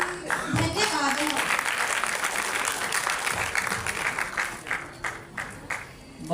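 Audience applause following a children's Sanskrit song performance at a state-level competition, a steady wash of clapping from a hall crowd that carries through the whole stretch, fading slightly near the end.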